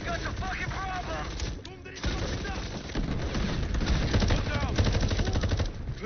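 Sustained machine-gun fire in a video game rattles continuously, backed by heavy battle noise, with voices talking over the shooting.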